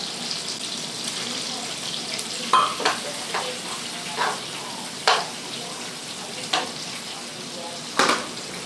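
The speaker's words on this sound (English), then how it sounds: "Now once I brown the steak, I'm going to add the garlic now" Steak and garlic sizzling in a hot pan for pepper steak, a steady crackling fry under repeated scraping clacks of a utensil stirring against the pan, close and moderately loud.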